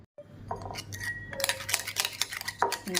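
A spoon mixes heated turmeric into paneer tikka in a bowl, quick metallic clinks and scrapes rattling against the bowl in a busy close burst.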